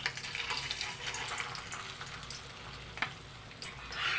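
Meatloaf fries in a pan with a steady, dense sizzle that runs throughout, broken by a few sharp crackles and pops, close up and without speech.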